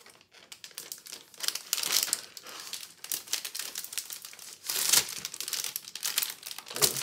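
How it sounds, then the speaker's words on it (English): A plastic sleeve around a planner layout with wooden dividers crinkles in close, irregular bursts of crackling, with sharper ripping surges and no voices. "Rip the plastic a little bit"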